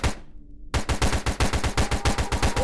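An MP5 submachine gun fires in VRChat in a zombie survival game. A rapid, close, evenly spaced burst of loud shots runs for about two seconds after a short pause.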